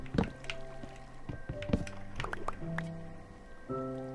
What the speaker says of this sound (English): I like that water sound.